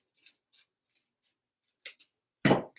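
Scissors cutting fabric corner to corner for a Mason jar pin cushion: a few faint, sparse snips close by, ending in one louder, sharper crunch of the blades.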